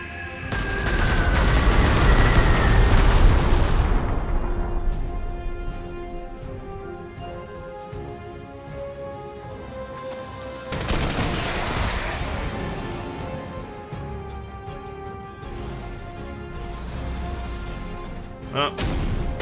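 A bombing attack in Panzer Corps 2 unfolds as loud rumbling explosions, a big blast at the start and another near the middle, each fading into a ringing, drawn-out decay.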